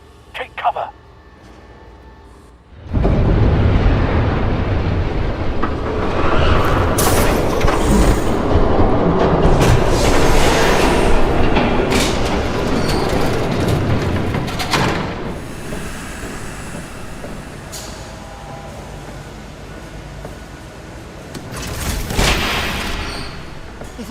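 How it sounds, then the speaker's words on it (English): A train rushes past in the video game Batman The Telltale Series, a loud sustained roar and hiss lasting many seconds before fading, with voices speaking over it. "There's a train coming. Take cover."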